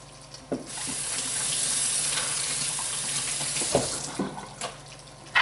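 Running tap water hisses steadily into a kitchen sink while celery is washed under it, close and fairly loud, with a few knocks and splashes as the stalks are handled.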